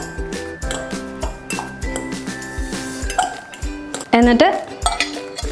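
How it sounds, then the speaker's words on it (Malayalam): A spoon scrapes and clinks around a bowl of quinoa salad as dressing is mixed through, a series of close, uneven stirring taps with someone speaking over them. "ഡ്രസ്സിങ് ഒഴിച്ചിട്ട് നന്നായിട്ടൊന്ന് എല്ലായിടവും ഇളക്കി കൊടുക്കുക."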